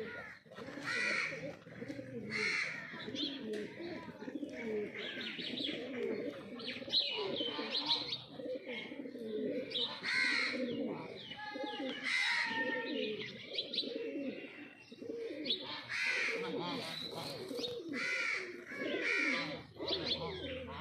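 Low flyer pigeons at a rooftop loft coo repeatedly, mixed with chirps and harsh crow-like caws. The calls are close and layered in constant overlapping bursts, with occasional faint voices in the background.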